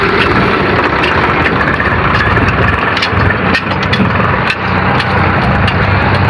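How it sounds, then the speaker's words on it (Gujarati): A tractor engine runs steadily while the tractor is stuck on a field being cleared for a mass wedding event, with a constant loud rumble and no break. "આપણે જે ભાઈનું ટ્રેક્ટર ફસાયું છે"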